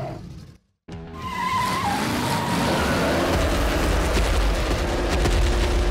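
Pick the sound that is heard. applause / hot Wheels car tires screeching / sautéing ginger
hot Wheels car tires screeching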